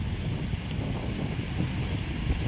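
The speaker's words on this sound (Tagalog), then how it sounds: "ang lakas ng hangin dito" Strong wind buffets the microphone with a constant low rumble and roar, steady and close, with no voices.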